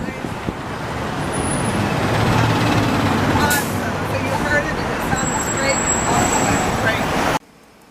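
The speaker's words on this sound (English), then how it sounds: "the students listen to the traffic to figure out whether we're going straight" Street traffic passing at a crossing, a continuous roar of cars and larger vehicles swelling and fading nearby, with occasional faint voices beneath, ending abruptly.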